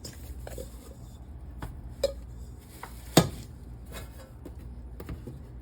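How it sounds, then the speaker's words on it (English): A baking pan is set down on a kitchen counter while Korean egg drop sandwich bread is made, landing with a sharp metallic clank amid quieter kitchen handling noises. "Put down our pan."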